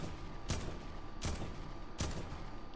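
Gunfire in the video game Fortnite: three sharp broadband shots spaced roughly three-quarters of a second apart, over a steady game background hum with no talking.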